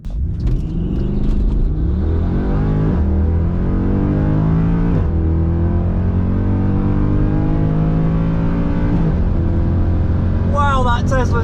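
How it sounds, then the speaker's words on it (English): A kiddie-class drag bike ridden by a child on a drag strip revs and accelerates hard. A loud, continuous engine note sweeps upward through several gear changes and is heard up close. "That's a kid racing a drag bike."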